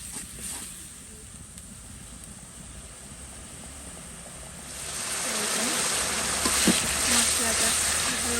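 Chili powder and other spices are stir-fried in a pan. A soft background hiss swells into a louder, steady sizzle about halfway through, with a few light scrapes of stirring.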